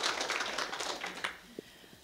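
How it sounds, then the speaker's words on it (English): Audience applause at a Pint of Science talk in Armidale, a steady wash of clapping for about a second and a half that fades to a few scattered claps. "Can you all give India a round of applause?"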